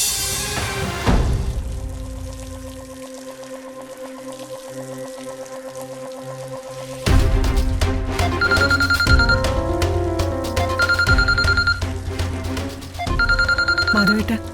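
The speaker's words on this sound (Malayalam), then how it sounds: "കുറച്ചു നേരമായിട്ട് ആരോ ഫോണിൽ വിളിക്കുന്നു" A telephone ringing with an incoming call inside a house, repeated bursts of electronic ringtone following a stretch of musical tones, fairly loud and near, with no talk over it.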